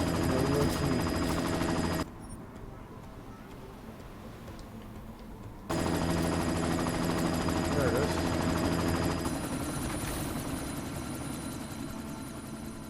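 A chopper in a video game sounds as a steady, rapid rhythmic thumping with a droning engine hum, cutting out briefly and returning, while a voice talks over it.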